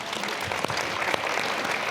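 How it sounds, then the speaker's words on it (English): Audience at an early childhood education conference fireside chat applauds steadily, a brief even patter of clapping heard from within the room with no voices over it. "a huge round of applause for all of you"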